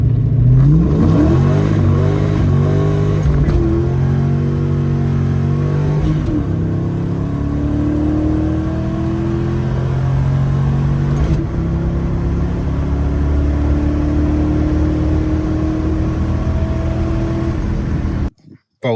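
A Ford Mustang Foxbody on bald tires accelerates hard with its rear tires losing traction, a loud continuous engine roar rising and shifting in pitch for the full length without any talk over it.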